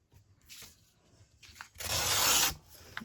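A sheet of paper for a journal page is torn by hand up close: faint rustling and small rips, then one sharp, sustained tear lasting under a second, followed by a light crinkle.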